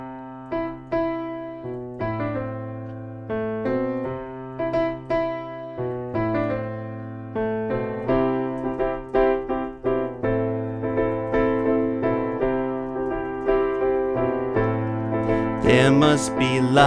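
Solo piano plays the intro to a song with steady chords and low bass notes in a measured rhythm. It builds to a fuller, louder passage near the end and is heard alone without talk.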